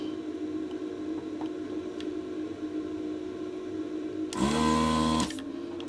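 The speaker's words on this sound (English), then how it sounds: "I actually got some new parts for my desoldering station gun here, and that should solve my issues with low sucking power on this" A desoldering station gun's suction pump kicks on partway through for about a second of loud, buzzing mechanical hum, then cuts off, against a quiet electrical drone on a workbench while the gun is used on a Commodore 128D motherboard.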